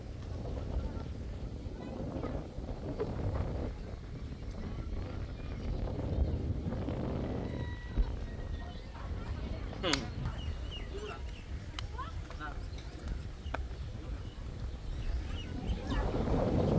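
Strong wind gusts and buffets the microphone outdoors in a village, with a continuous low rush under steady talking and occasional clucking of chickens nearby.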